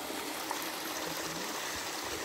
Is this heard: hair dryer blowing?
no